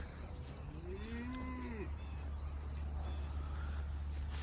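A single drawn-out cow moo rising and falling, fairly close, over a steady low engine rumble from a nearby vehicle on a farm.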